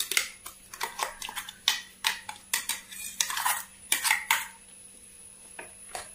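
A metal spoon stirs jackfruit curry with ground coconut paste in a cooking pot, making a close run of sharp clinks and scrapes against the metal in an uneven rhythm that thins out toward the end, with no talking.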